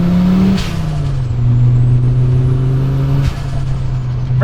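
A 500-horsepower Audi Sport Quattro with a loud turbocharged engine accelerates hard, its engine note climbing through two gears with a brief break for a shift, loud, close and without talk.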